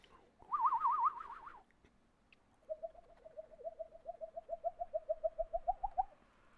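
A man imitates a bird call with his voice, first a short warbling, wavering whistle-like tone, then after a pause a longer series of rhythmic pulsing coos that grow stronger toward the end.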